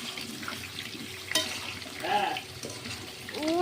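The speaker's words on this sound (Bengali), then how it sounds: "তেলটা গরম হয়ে গেছে, এখানে আলুগুলো দিয়ে দিচ্ছি" Potatoes hit hot oil in a pan and sizzle with a steady hiss and some spattering, while a voice speaks briefly over the cooking.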